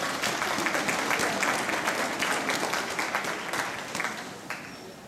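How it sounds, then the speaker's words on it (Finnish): Spectators at a riding school open house applaud a school horse, a sustained patter of many hands in a roomy space that gradually softens. "Annetaan aplodit Patulle."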